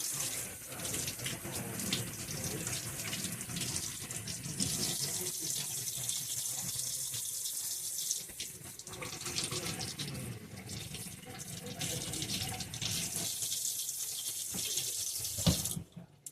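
A kitchen tap runs into a sink while onions are rinsed, a continuous splashing gush that shifts as the stream hits the produce and goes on without speech.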